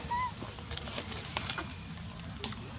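Pigeons or doves coo softly outdoors, faint calls against a steady background hiss with a few brief clicks and knocks.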